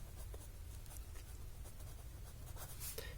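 A pen scratches on paper while math is worked out, faint close strokes and taps in an irregular rhythm over a low steady background hum.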